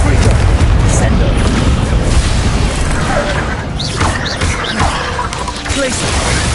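Spell explosions from Confringo and Descendo in Hogwarts Legacy boom and crash in a dense, continuous barrage of impacts and rumbling debris, with a voice shouting over the din.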